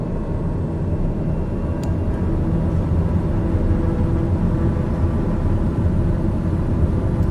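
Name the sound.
aircraft engines at full takeoff power, Microsoft Flight Simulator video game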